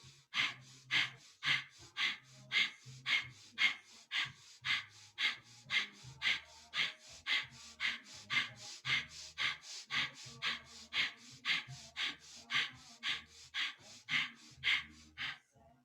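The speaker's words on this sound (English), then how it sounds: "you can do long, deep breathing" Rhythmic breathing during a Kundalini yoga exercise, a long run of even, quick, close breaths repeating about twice per second with brief pauses, with no talking.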